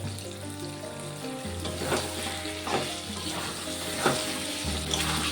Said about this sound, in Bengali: এখন আমি চিকেনটাকে দিয়ে দেবো।